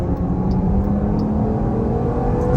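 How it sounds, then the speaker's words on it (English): A 2023 Jeep Grand Cherokee Summit with the HEMI V8 pulls away hard from a stop, its engine roaring loud and close with a rising rumble that holds steady throughout. "We'll try an acceleration off the line. All right, guys, on the gas."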